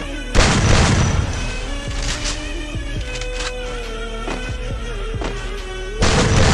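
Grenade blast in a shooting video game, a loud booming burst at the start followed by rumbling game sounds and a second heavy burst near the end.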